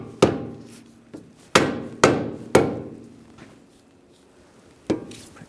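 A hammer taps a lower ball joint pin on a 2006-2009 Mercedes-Benz E350 front suspension, giving five sharp metallic strikes: one, a quick group of three, then a final tap after a pause, close and clear with no talking.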